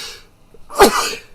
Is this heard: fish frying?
no